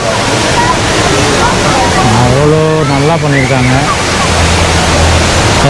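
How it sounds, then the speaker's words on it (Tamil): Water pours from the tall indoor waterfall at Jewel Singapore airport in a loud, steady, rushing roar that fills the space while someone talks over it. "இந்த இடத்துல தண்ணி கொட்டுறது"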